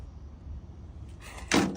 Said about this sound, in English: Look, the door actually shuts.